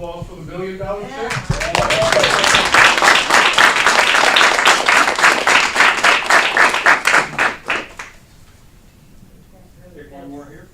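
A room of people applauds at a city council meeting for a presented check, steady close clapping building quickly, holding for about six seconds, then tapering off to scattered claps before speech resumes.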